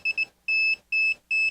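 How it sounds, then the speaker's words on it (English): A KAiWEETS KM200s multimeter's voltage detector beeps fast as it nears a live wire, giving clear, loud electronic tones in rapid pulses, a short double chirp followed by three longer beeps, close and alone. "I can get a much faster beep because it's closer to where the voltage is at"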